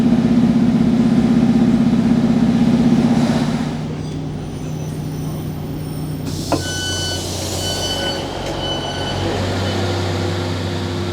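A three-car Class 150 diesel train passes through Chapeltown station, a loud engine drone that drops away midway, followed by a lower rumble and a short sharp clank.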